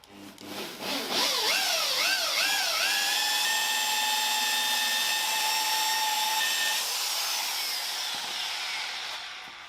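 A power polisher with Blue Magic compound buffs Caterham Super Seven brake parts, making a loud continuous whirring hum that wavers in pitch at first, then holds steady for several seconds close up.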